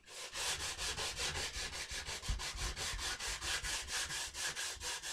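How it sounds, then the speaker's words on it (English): Sandpaper works over a wooden gun stock in steady, rhythmic back-and-forth strokes, close and continuous throughout, with no voices. "you can go finer to 220 or 320 or 400 or however fine you want to sand the stock"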